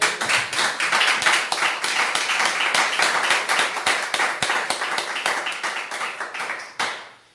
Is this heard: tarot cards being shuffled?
no